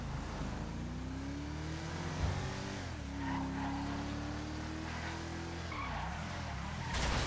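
Windsor car in the video game GTA Online driving along with a steady engine drone whose pitch climbs and drops through gear changes, with some tire noise, fairly constant and unaccompanied by talk.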